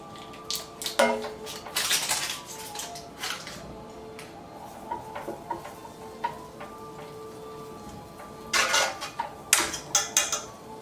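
Butter being spread around a frying pan while a three-course breakfast is cooked, heard as intermittent scraping and clattering of a utensil against the pan, with bursts of louder metallic clinks near the start and end.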